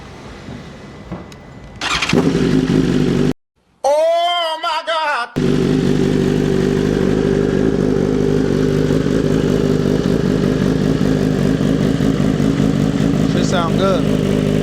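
A BMW S1000RR motorcycle engine cranks and fires, sputters briefly, then settles into a loud, steady close-up idle with a rev blip near the end; a man exclaims during startup.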